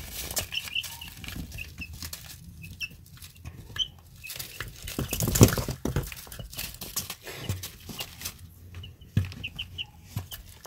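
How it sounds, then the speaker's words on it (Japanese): Nagoya Cochin chicks give a steady stream of soft, high peeping and chirping, close by and continuous, with faint rustling and shuffling underneath. "こちら我が家のひよこでございます"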